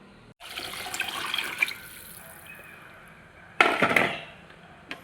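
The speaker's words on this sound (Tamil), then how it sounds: "நாலு டம்ளர் தண்ணி ஊற்றியாச்சு" Four tumblers of measured water poured into a cooking pot, two separate splashing pours close by, the first longer and the second short and louder, over a quiet background with no talking.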